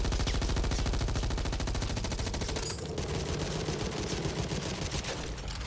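A Glock pistol fires rapidly and steadily in the Back 4 Blood video game, a dense unbroken stream of shots that dips slightly in the middle and keeps going to the end.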